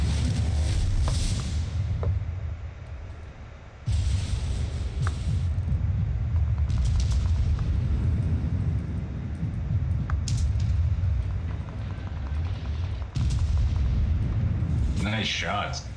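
Naval guns fire in World of Warships. Heavy booms roll into a continuous low rumble of artillery that lasts throughout, with fresh salvos breaking through every few seconds.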